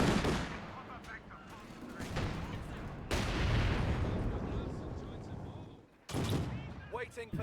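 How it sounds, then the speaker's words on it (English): Mortar fire impacting in a video game battle, with heavy gunfire and sharp blasts rolling through, a loud burst cutting in around the midpoint and another near the end, under a commentator's voice. "Mortar now having some impact here in the middle"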